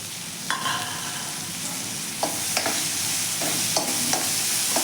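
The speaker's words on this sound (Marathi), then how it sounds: "आणि कांदा आपला अगदी 1 मिनिटभर आपण मोठ्या गॅसवरती परतून घ्यायचा आहे।" Finely chopped onion sautés on a high gas flame with a bright, steady sizzle, broken by repeated short scraping strokes of a spatula as it is stirred.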